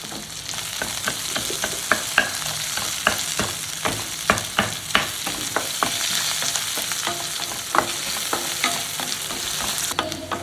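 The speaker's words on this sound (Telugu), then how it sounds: "ఆనియన్ వేగినాయి" Chopped onions frying in a pan for upma, a steady close sizzle with repeated sharp scrapes and taps of a stirring spoon against the pan throughout.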